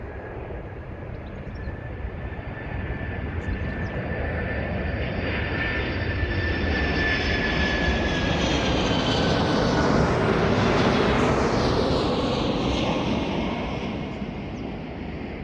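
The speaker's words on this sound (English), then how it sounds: "What a way to end with the Delta 767." A Delta Boeing 767 jet at London Heathrow roars past, its engine noise swelling steadily to a loud peak with a descending whine, then easing slightly, heard from the ground with no talk.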